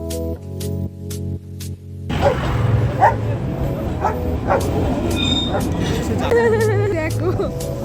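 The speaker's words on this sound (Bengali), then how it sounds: "সব কুকুরগুলো ডাকছে কেন কে জানে" Dogs from hillside houses barking repeatedly as the Darjeeling toy train passes, sharp yips and barks over steady train rumble with people talking nearby.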